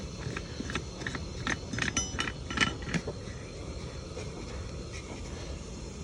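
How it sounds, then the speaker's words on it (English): A pressure cooker lid is cranked shut, giving a run of light metallic clicks and ratcheting clinks close by, with no talking. "I can just take this lid and I can stick it on, and then I can just crank it."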